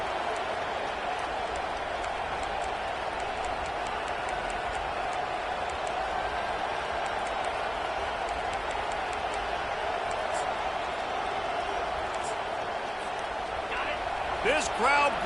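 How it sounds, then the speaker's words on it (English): Stadium crowd noise from the video game NCAA College Football 25, a continuous roar of cheering and chatter that holds steady throughout, with a commentator's voice and brief game sounds rising near the end. "This crowd bringing the energy and noise early"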